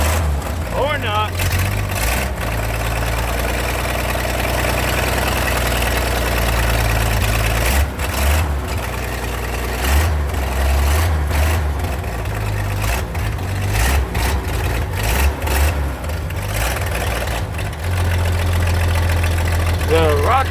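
An old Chevy engine idles roughly and continuously nearby after a cold start, a low uneven rumble with occasional knocks, holding steady throughout.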